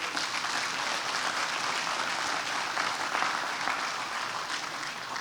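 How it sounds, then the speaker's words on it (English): Sustained, dense applause fills a crowd gathered for the Crosstown Parkway grand opening, ribbon cutting and dedication ceremony, steady and fairly close throughout without letting up. "So give yourselves a round of applause."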